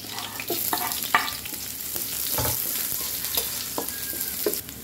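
Garlic sautéing in cooking oil in a pan, a steady close sizzle broken by scattered stirring clicks and scrapes, with no talking.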